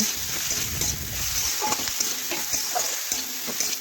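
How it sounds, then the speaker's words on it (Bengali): Vegetables fry in a pan with salt, turmeric and red chili powder, giving a continuous close sizzle with repeated spoon scrapes and clicks as they are tossed and stirred. "এখন ভালোভাবে নাড়াচাড়া করে সবজি একটু ভেজে নিচ্ছি"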